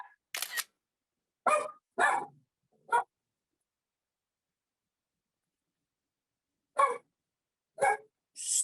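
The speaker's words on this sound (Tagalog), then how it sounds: "May asong tumatahol." A dog barking outside near a classroom, heard as separate short barks in two clusters with a long quiet gap between them, fairly faint and distant, with no voices.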